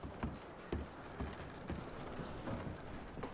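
Horses' hooves clip-clop in a steady walking rhythm within a video game, a soft, fairly faint patter set against a dense background of ambient noise.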